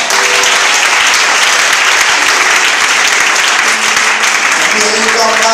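Sustained, loud applause from a church congregation acclaiming Jesus during a prophetic worship service, dense steady clapping filling the whole stretch with voices mixed in and a few held musical tones near the end.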